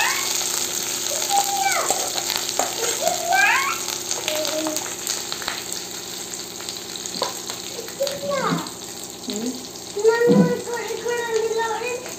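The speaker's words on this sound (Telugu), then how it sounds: "దీంట్లో ఒక 30 seconds అంతసేపు కొంచెం ఫ్రై చేసుకోవాలి." Green chillies and curry leaves fry in a pan for a biryani, giving a steady, moderate sizzle with soft stirring clatter. A voice speaks intermittently over it.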